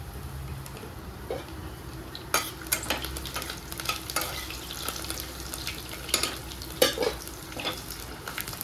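Cumin, mustard seeds, fenugreek and dried red chillies frying in oil in a pan for munagaku pappu, a low steady sizzle with several louder bursts of stirring and scraping spread through the clip.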